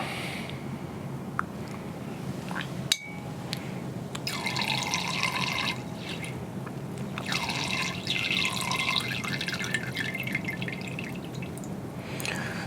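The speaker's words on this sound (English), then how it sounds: "I can go ahead and begin filling the flask." Water sample from a pipette trickles and drips into a laboratory flask, a steady close liquid flow with brief gurgling swells and one sharp tap midway, no talking.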